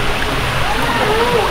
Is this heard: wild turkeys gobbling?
no